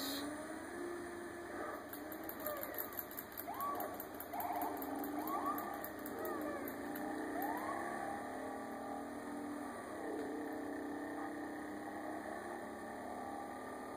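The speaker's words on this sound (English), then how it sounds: "there's the one siren, there's the other one" A synthetic vehicle siren in GTA V wails in repeated rising and falling sweeps over a constant electronic drone, with quick high blips near the beginning.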